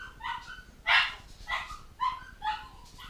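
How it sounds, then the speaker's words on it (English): A dog barks nearby in a quiet indoor studio, giving a string of about five sharp yappy barks spaced roughly half a second apart, with no talking. "Oh, dog's barking."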